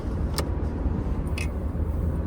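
A Suzuki Jimny cruises along a highway, its steady road and engine drone filling the cabin, with a couple of brief higher-pitched rattles or clicks over the continuous rumble.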